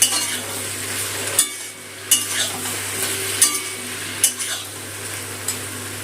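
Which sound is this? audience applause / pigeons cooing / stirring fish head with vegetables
stirring fish head with vegetables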